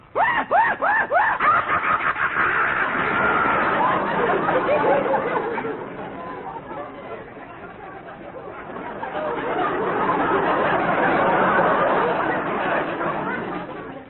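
A voice imitates the maniacal screech of a hyena in an African jungle radio comedy scene, a long stretch of cackling, chattering shrieks, loud at first, dipping in the middle, then swelling again.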